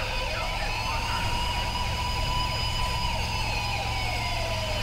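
Loud, continuous wailing siren of a Mercedes-Benz Sprinter 119 ambulance in GTA V, cycling in fast sweeps over a steady low vehicle drone.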